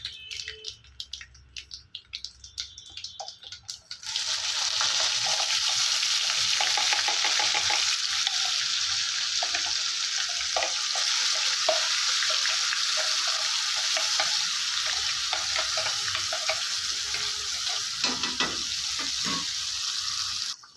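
Ground kaara chutney tipped into a pan on a low flame, bursting into loud, continuous sizzling and frying that runs steadily for about sixteen seconds, with some scraping of stirring and no voice.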